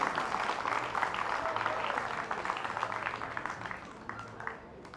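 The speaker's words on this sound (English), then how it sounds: "Give a round of applause, everybody." Applause from an audience at a mind-reading stage show, a steady dense patter of clapping at moderate volume that gradually thins and fades over several seconds.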